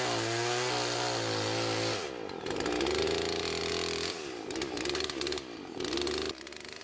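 Chainsaw ripping through a birch log to cut bowl blanks, engine loud and close with a steady high whine, then dipping and surging as the cut finishes, no voices.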